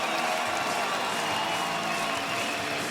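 An arena crowd at a Bellator 138 MMA event applauds fighters Ken Shamrock and Kimbo Slice, a steady, moderately distant wash of clapping and crowd noise without pause.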